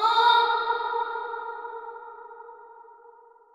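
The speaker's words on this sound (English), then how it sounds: "So now we've got the vocal phrase with the reverb printed into the track now." A sung vocal phrase with printed reverb opens bright and then decays into a long, smooth reverb tail that fades steadily toward silence, heard alone.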